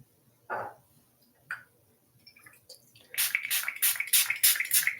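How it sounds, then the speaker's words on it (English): Water sprayed onto natural hair from a spray bottle, a few short separate spritzes and then a quick rhythmic run of close, hissing bursts. "I'm spraying water, and I'm using my leave-in conditioner."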